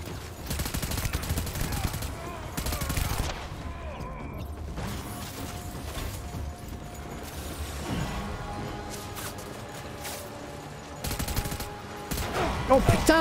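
Bursts of machine gun fire in the video game Death Stranding, rapid rattling volleys alternating with mechanical clanks and quieter gaps, fairly distant and low in level.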